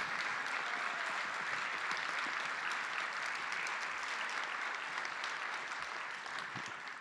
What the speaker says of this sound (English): Can you help me give them a round of applause?